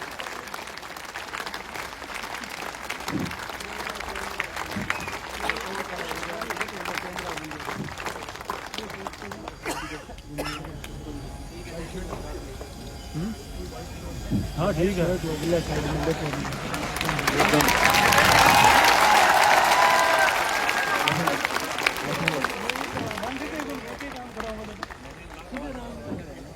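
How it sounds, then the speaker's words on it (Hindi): Applause from an audience builds and peaks in a sustained burst of clapping, with a brief spoken remark and crowd murmur around it. "आपकी तालियां रुकनी नहीं चाहिए"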